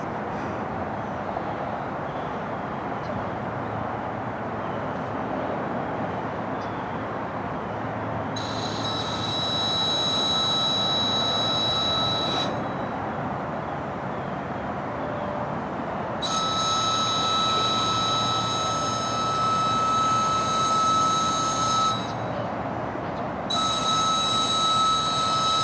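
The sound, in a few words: CSX train 92 freight train shoving backwards on spur track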